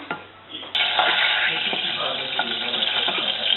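Butter melting in a pan for a home-cooked dinner: a quiet lead-in, then a sharp click as a dense hissing sizzle starts and holds steady and close, with scattered small pops.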